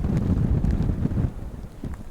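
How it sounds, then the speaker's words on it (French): Steady outdoor gusts of a north wind buffet the microphone, a broad low rumble that eases slightly partway through, with no voices. "Il y a du vent et tout, il y a le vent du nord."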